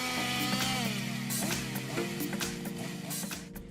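A 5.4-kilowatt, 7.4-kilogram chainsaw runs steadily while cutting a tree in a forestry setting, a continuous buzzing whine with small pitch shifts as the chain bites, moderately close.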